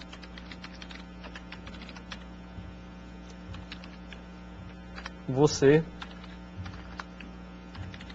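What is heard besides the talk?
typing on a computer keyboard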